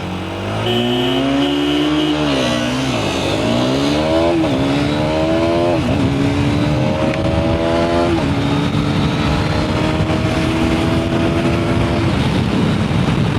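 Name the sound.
motorcycle launching and accelerating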